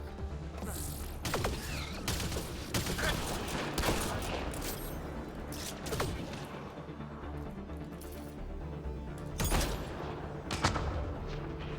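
Rapid bursts of gunfire from the video game Mass Effect: Andromeda, with sharp repeated shots scattered through dense, busy combat noise and mechanical clatter, loud and continuous with no talk.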